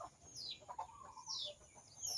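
Chickens and other birds calling in a rural backyard in the early morning, with soft clucks and brief chirps coming and going at a moderate distance over a quiet background.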